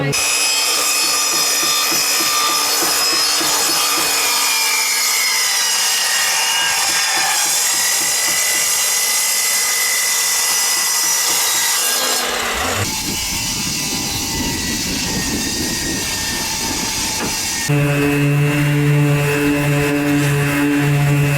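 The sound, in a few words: sanding wooden boards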